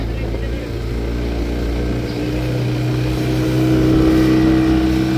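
Boat engine running on the water on the way to Palaitheevu island, a steady loud drone that swells slightly toward the end, with a voice speaking over it.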